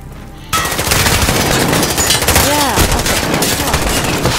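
Rapid gunfire in the Call of Duty: Modern Warfare campaign, a dense continuous barrage of shots starting abruptly after a brief lull and sustained loudly throughout, with a short whistling sweep partway through.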